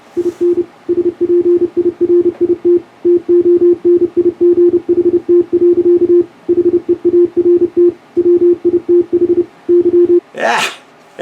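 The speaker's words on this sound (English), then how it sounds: "just came in on Morse code, eh, on my phone" Morse code tones coming in on an old, basic mobile phone: a steady mid-pitched beep keyed in rapid dots and dashes for about ten seconds, fairly loud and clear, followed by a brief rustle at the end.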